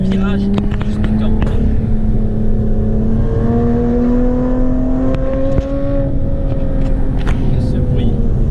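Supercar on a winding rally road during the EM Run, its engine droning loud and close as revs rise and fall through the bends, with wind rumble and people talking over it.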